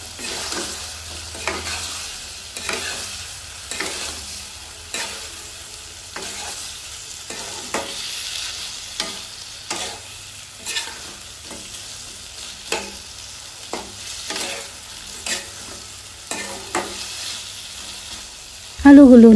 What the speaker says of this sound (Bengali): আলুগুলো নেড়ে চেড়ে কিছুক্ষণ কষিয়ে নেব যাতে সমস্ত মশলা আলুর ভিতরে প্রবেশ করতে পারে।